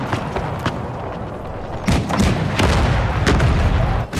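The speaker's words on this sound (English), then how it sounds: "Ooh, that was a deadly canister on that." Canister shot artillery fire in Total War: Empire, a real-time strategy battle, comes as a dense run of booming, thudding blasts over continuous battle noise, loud and close with heavier volleys near the end.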